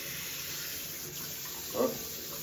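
Hot water runs from a tap fed by a newly installed water heater, a steady, fairly quiet hiss of flowing water with a brief knock or splash near the end.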